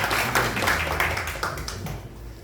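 A group of residents claps at a briefing on a redevelopment project near Daeheung Sogang University station, with sharp individual claps over low room noise, tapering off and fading out toward the end.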